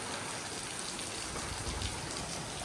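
Steady, dense hiss of rain falling, continuous throughout with no voices.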